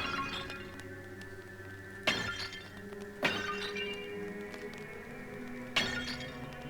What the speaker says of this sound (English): Maybe I shouldn't break every single pot.